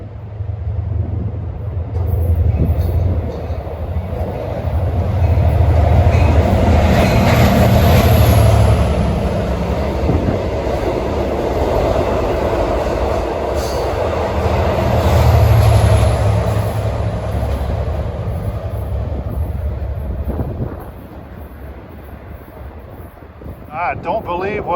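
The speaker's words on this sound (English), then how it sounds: "Approaching west is train 8709 en route from Montauk to Jamaica." A Long Island Rail Road push-pull train, number 8709 with a cab car, runs from Montauk to Jamaica, a broad low rumble and wheel roar swelling and easing over about twenty seconds under gusty wind, then dropping off.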